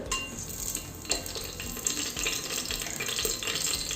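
Cinnamon and cloves crackle and sizzle in hot oil in a pressure cooker, with light stirring scrapes and a soft bubbling hiss throughout, fairly quiet and close.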